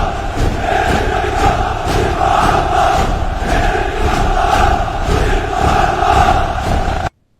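Dense, continuous roar of a large crowd rioting in a city street, shouting voices blending into a steady loud wall of noise that holds for about seven seconds before cutting off abruptly.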